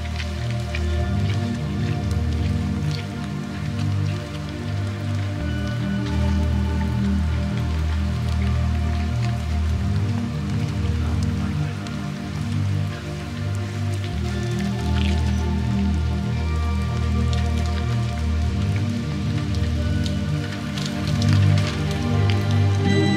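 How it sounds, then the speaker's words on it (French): Steady rain falls for the whole stretch near village ruins, a dense continuous patter with drips, loud and even throughout, with no talking. "La pluie s'arrête pas, ça fait 1 heure."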